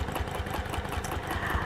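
A sewing machine stitches applique with steady, fast, even mechanical chattering heard close and continuous throughout, with no talk.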